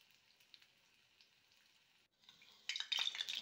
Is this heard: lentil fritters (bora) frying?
yes